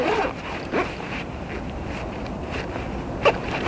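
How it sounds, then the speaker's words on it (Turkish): A 5.11 Rush Moab 10 sling backpack zipper being closed, heard as a few short, close zipping strokes with a sharper pull near the end over a steady low background. "Önce kapatıyorum. Bu arada fermuarları harika."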